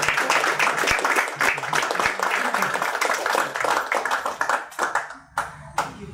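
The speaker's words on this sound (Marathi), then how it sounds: "जोरदार टाळ्या" Audience applause at a Marathi autobiography book launch ceremony: a room of people clapping briskly and fairly close, loud at first, then thinning into scattered individual claps as it dies away.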